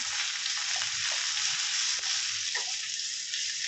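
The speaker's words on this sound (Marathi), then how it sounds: "हे छान तेलात असं परतून घ्यायचं" Shallots and coconut sautéing in oil produce a steady, even frying hiss with occasional faint stirring clicks, close and continuous without speech.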